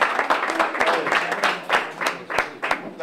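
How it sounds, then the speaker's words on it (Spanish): A small group claps steadily with dense, overlapping hand claps, moderately loud and close, without voices on top. "Un aplauso."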